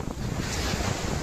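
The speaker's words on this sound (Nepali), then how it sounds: "यो छाललाई छाल त भन्छन् होइन यो छालहरू त आम्मामा यो छाल" Sea waves wash onto the shore at Mahboula beach in Kuwait, a steady, full surf roar mixed with wind buffeting the microphone, with no voices.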